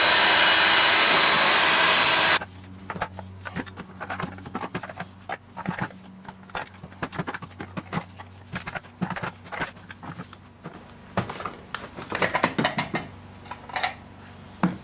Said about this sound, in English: hit it with a heat gun and see if we can pry that off